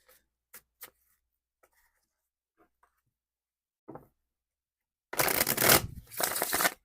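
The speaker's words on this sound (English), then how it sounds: "Get a good shuffle." A deck of tarot cards is shuffled briskly in two bursts near the end, close and loud, after several faint scattered taps and clicks of handling in near silence.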